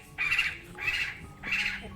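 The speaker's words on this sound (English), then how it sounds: "I hear the birds." Three harsh bird squawks, evenly spaced about half a second apart, loud and fairly close against a quiet background.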